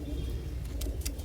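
A pet pigeon family coos in low, steady murmurs close by, with a few faint clicks over a constant background hum.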